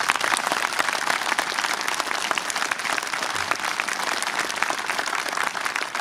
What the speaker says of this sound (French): Vraiment, on applaudit.